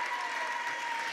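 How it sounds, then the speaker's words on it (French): An audience applauds at the Travel Agents Cup Junior 2018 final, a brief, steady wash of clapping at moderate distance with no speech over it. "Clément Sédac, vous pouvez l'applaudir, sera notre premier candidat."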